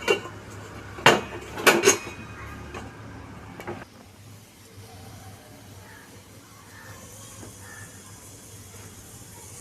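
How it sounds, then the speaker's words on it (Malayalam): A metal lid clanks onto a cooking pot in a few sharp, close metallic clinks over the first two seconds, followed by a quiet low hum from the stovetop. "ഈ രണ്ട് മിനിറ്റ് ഒന്ന് മൂടി വയ്ക്കാം"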